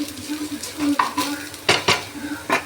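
Tomatoes sauté in a pan under a soft, continuous sizzle, while a spoon scrapes and stirs in quick, irregular strokes, close by and with no one talking.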